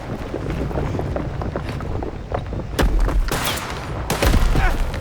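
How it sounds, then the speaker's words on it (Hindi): Bursts of gunfire in the video game Mafia: The Old Country crack out over a steady windy, rumbling background, with a couple of heavier volleys toward the end. "गोलियां चल रही हैं अभी अब,"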